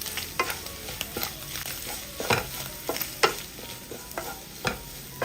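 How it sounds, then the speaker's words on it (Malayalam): A spoon stirs a garam masala–spiced mixture in a pan, making repeated scraping knocks at an uneven rhythm over a low background sizzle, close and fairly quiet. "ഇനി ഇതൊന്ന് ഇളക്കി കൊടുക്കാം."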